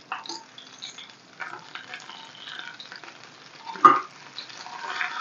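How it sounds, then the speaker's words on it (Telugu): Coriander and garlic sizzling in a pan for a ridge gourd chutney, with a soft, steady fry and light stirring and one louder scrape of a spoon. "కొత్తిమీర కూడా కొంచెం ఫ్రై అవ్వాలి."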